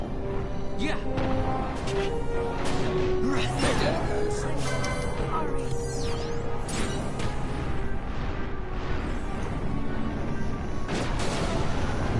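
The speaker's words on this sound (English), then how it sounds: "One explodes and they all explode." Repeated explosions and gunfire-like blasts from Final Fantasy 12 fill the whole stretch as a dense, continuous barrage of game combat noise, with game music and effects layered in and talk mixed underneath.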